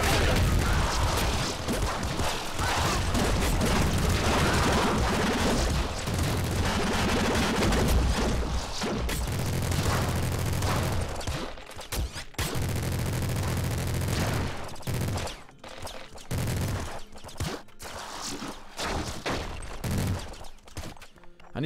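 Rapid, dense gunfire from the super plasma cannon in the video game Nuclear Throne: continuous loud blasts and booms blur together, then break into choppier bursts with short gaps toward the end.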